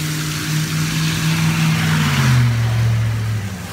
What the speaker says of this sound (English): forget the rain, I'm still driving because I'm in a truck